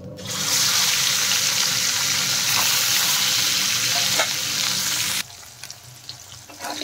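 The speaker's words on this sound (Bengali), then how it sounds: "এইভাবে সব মাছ কটা আমি ভেজে নেব" Pieces of mrigel fish fry in hot oil with a loud, steady, broadband sizzle that fills most of the stretch, then cuts down abruptly near the end to a quieter crackle. No one speaks.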